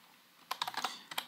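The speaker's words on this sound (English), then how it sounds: "we can do that by typing lambda" Quick keystrokes on a computer keyboard while entering an Excel lambda function: a short burst of about half a dozen crisp, close taps, then two more after a brief pause.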